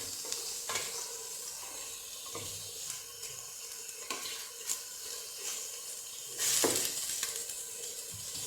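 Onions and couscous ingredients fry in a pan while being stirred, a soft steady sizzle with scraping and clinks of a utensil, and a brief louder burst near the end; no one speaks.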